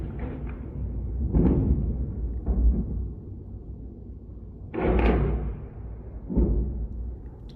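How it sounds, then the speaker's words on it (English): Distant artillery fire on a battlefield near Krasnoarivka, Ukraine: a series of muffled, booming thuds arriving every second or two, each rolling out in a low rumble with no voices. "That is the sound of a massive amount of artillery bearing down onto the area"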